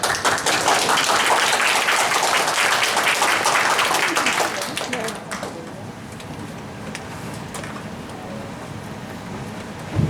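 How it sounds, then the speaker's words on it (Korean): Property owners at a redevelopment briefing clap loudly to welcome the committee chairman, dense applause that thins out after about five seconds into scattered claps and room noise. "소유주님들께서는 큰 박수로 맞이해 주시기 바랍니다"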